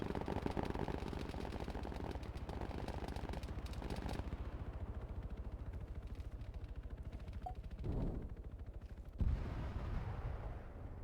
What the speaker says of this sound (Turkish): Arkadan bir silah sesi var.